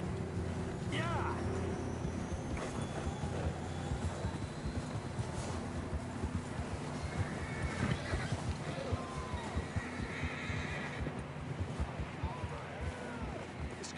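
Horses in Red Dead Redemption 2 clop along at a steady gallop through the whole stretch, a continuous hoof rhythm under game ambience, with a voice talking over it.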